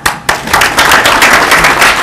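A room at a school committee meeting bursts into loud, close applause, a dense, steady patter of many hands clapping that lasts throughout.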